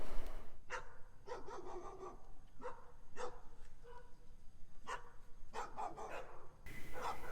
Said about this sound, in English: This dog absolutely would not stop barking the whole time I was out here